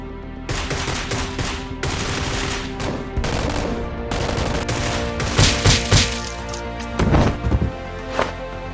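Toy Nerf blasters fire in a staged gunfight between a female SWAT officer and a robber upstairs, giving dense bursts of rapid sharp pops and clacks with short pauses, loud and close throughout.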